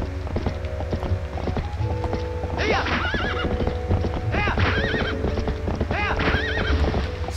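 Epona the horse in Zelda: Twilight Princess HD whinnies several times over a steady run of galloping hoofbeats, with game music and ambience underneath.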